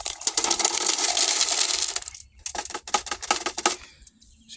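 Tumbled rocks dumped out of a foamy rock tumbler drum, a loud continuous rattling cascade of stones for two seconds, then scattered clacks and knocks as the last pieces tumble out.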